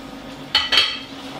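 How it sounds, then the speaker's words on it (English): A spoon stirs tomato sauce with guanciale in a pot for bucatini all'amatriciana, giving two quick metallic clinks against the pot over a quiet kitchen background. "Give a little stir."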